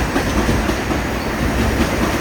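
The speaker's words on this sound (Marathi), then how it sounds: "आपली जी ट्रेन आहे ती मुंबई सेंट्रल जयपूर आहे" Mumbai Central–Jaipur express train running on the rails, a steady close rumble with rhythmic wheel clatter, no voices.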